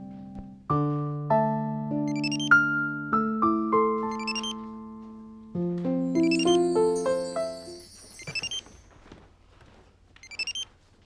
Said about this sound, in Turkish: Buyurun Afet Hanım'ın telefonu